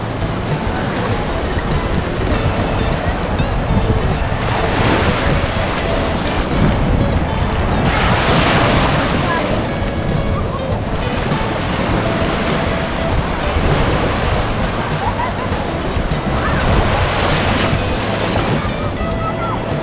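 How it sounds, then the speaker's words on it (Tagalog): Ocean waves at Cabongaoan Beach in Pangasinan, a loud continuous roar of surf with several swelling breakers rolling in, mixed with strong wind buffeting the microphone. "Ganda ng dagat."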